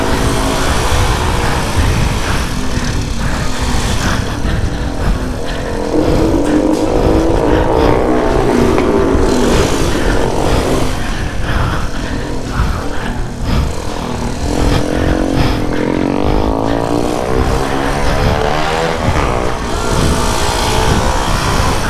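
Loud, continuous engine roar of a motorcycle underway, revving and shifting pitch with steady rushing wind noise throughout.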